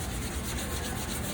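A scrubbing pad rubs steadily and harshly across a grill, a continuous gritty scraping that stays close and even from start to finish.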